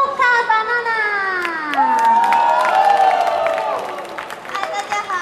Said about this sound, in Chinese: 我们现在呢要请各位呢跟我一起来掌声欢迎我们的露卡巴娜